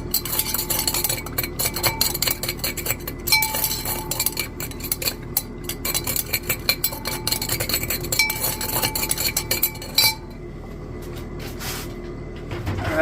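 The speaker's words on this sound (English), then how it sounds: "We'll give it a stir just so we make sure we get a good reaction." A chemical solution in a glass beaker for gold recovery from IC chips is stirred, with rapid rattling clinks and scrapes of the stirrer against glass, close and busy, ending in a quieter stretch.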